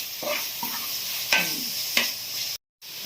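Crab curry fries in oil in a pan, a steady close sizzle broken by three or four scraping stirs before a brief dropout near the end.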